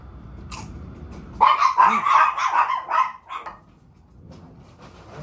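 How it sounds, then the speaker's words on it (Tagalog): Several dogs bark in a rapid, overlapping burst, close and loud, then trail off into a few fainter yips. "Mga aso kalat-kalat sa baba."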